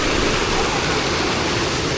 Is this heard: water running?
yes